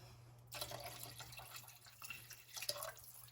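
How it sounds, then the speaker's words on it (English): Faint trickle of water poured into a pot, starting after a brief pause and splashing unevenly for a few seconds in a quiet room. "I'm gonna add a little bit of water."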